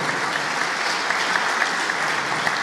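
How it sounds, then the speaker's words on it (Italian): An audience at the inauguration of an association's new headquarters keeps up loud, dense applause, a continuous even roar of many hands with faint sharper claps poking through. "È giusto l'applauso"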